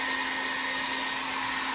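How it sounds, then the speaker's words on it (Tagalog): A hair dryer runs at full blast to dry paint on a repainted McFarlane Batman toy figure, a close, unbroken whooshing drone with a steady motor hum, no voices over it. "So gumagamit ako ng hair dryer para mas mabilis yung drying time"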